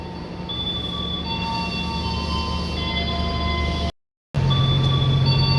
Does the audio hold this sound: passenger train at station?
yes